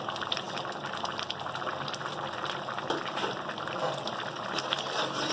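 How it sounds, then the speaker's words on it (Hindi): A wooden ghotna mashes whole black masoor dal in a pot, giving a wet, bubbling squelch that churns steadily and softly throughout. "इस तरह करके हम दाल को अच्छी तरीके से घोटा लगा सकते हैं।"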